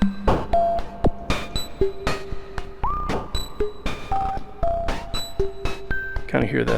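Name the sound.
Kastle Drum synthesizer with noise added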